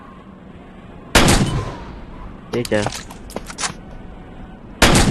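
Gunshots in a Wild West gunfighter video game: two loud, sharp blasts at the start and end, with a burst of clattering action sounds between them and a voice speaking briefly.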